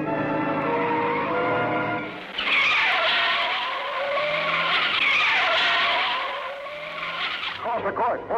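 A race car skids with locked wheels on a course, a long loud tire screech following engine noise and fading into engine and road rumble, with voices heard faintly underneath.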